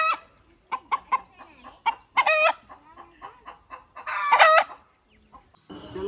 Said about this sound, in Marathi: कोंबडी अशी ओरडतीये.